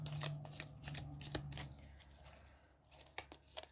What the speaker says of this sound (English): We're going to give them a shuffle.